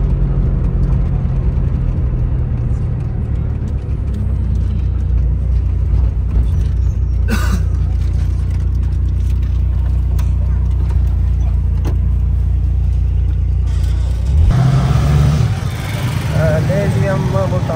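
A car on the motorway slowing at the Jalalpur toll plaza, a steady low road and engine drone from inside the cabin, with a brief hiss and a shift in tone near the end as it eases down.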